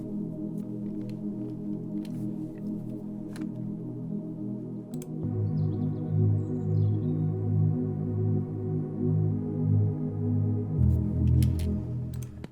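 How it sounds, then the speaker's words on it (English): A trance-style saw chord synth pad holds thick, sustained chords that swell and change twice, sitting alone at moderate loudness with faint clicking taps scattered over it. "that really trance sounding chord saw sound"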